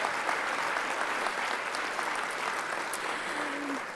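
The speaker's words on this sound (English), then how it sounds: "I think partners like that deserve a round of applause as well." Audience at a Telstra NSW Business Awards ceremony in Sydney gives a steady round of applause for partners, a thick continuous wash of clapping that holds evenly for about four seconds.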